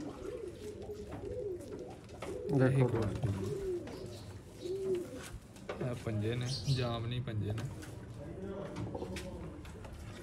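Pigeons coo in low, throaty repeated calls, close by, while someone talks over them throughout.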